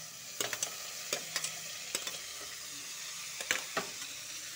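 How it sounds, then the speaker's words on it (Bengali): Lightly fried potatoes in a pan as tomatoes go in: a soft frying hiss broken by a dozen or so sharp, close spatula scrapes and taps, no talking. "আলুটা হালকা ভাজা হয়ে গেছে, এখন টমেটো ছেড়ে দিব।"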